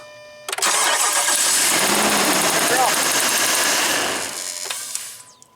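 A car engine cranks steadily for several seconds while a spark tester is hooked to one of its plugs. The starter churn is loud and close, then it cuts off with a brief faint tail.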